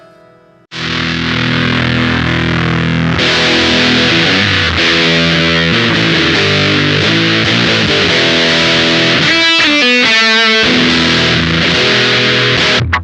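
A heavily distorted electric guitar through an Old Blood Noise Endeavors Beam Splitter drive pedal plays loud sustained chords and riffs, gritty and saturated, with a brief choppy stutter near the end.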